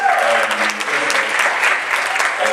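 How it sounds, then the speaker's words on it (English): An audience applauds at a school spring concert, dense continuous clapping from a crowd, loud and close, with voices under it. "If you clap your hands for Greg"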